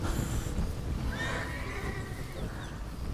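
A horse neighs and whinnies in the Red Dead Redemption: Undead Nightmare video game, a loud, drawn-out call over hoof clip-clops and game background noise.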